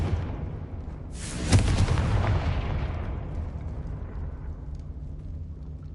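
Confringo fire spell blast in Hogwarts Legacy, a single sharp explosive boom that erupts suddenly and then rumbles away into a fading, lingering tail.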